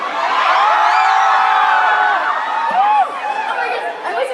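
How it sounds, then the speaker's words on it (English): Fans at Asia Pop ComiCon, a comic convention, scream in a sustained high-pitched crowd roar with overlapping shrieks and whoops, loud and dense throughout. "I was smiling because you guys were screaming"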